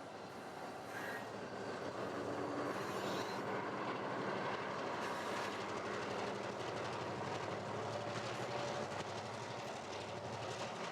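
A 40-car freight train hauled by three locomotives climbs a 2% grade in the Bay Area, its steady rumble and wagon clatter continuous throughout, with occasional faint wheel squeal over the rolling din.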